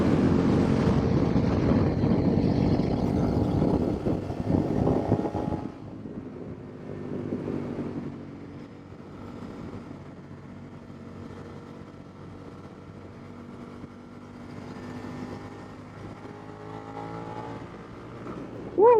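Third-generation Suzuki SV650 motorcycle riding through city curves: a loud, steady engine drone with wind rush for the first few seconds, then easing to a quieter, lower hum while cruising.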